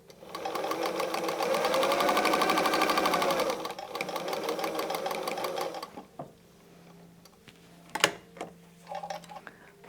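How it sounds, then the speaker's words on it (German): A domestic sewing machine stitches patchwork star blocks cut from jelly roll fabric scraps, running in a steady, fast, rhythmic hum for about four seconds, then slowing to lighter intermittent mechanical clicks and taps. "Und wir nähen das Ganze ab."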